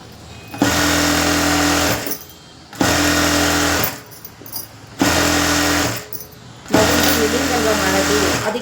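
A sewing machine stitches a princess-cut blouse in four steady motor runs of about two seconds each, separated by short pauses. The whirring is loud and close, with no voice over it.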